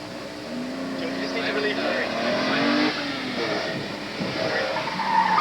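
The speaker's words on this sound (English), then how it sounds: "Next on the course, Ron Freeman in his A Street Prepared Datsun 240Z" An A Street Prepared Datsun 240Z racing on a Solo 2 autocross course at the 1988 Canadian Nationals, engine revving and tires squealing at moderate distance under an announcer's talk.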